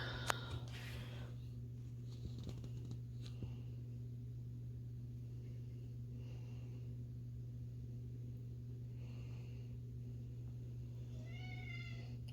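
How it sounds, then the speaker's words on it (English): A house cat meows from behind a closed bathroom door, a few faint, distant cries spaced out over a steady low electrical hum, the last one a rising wavering call. "That's my cat."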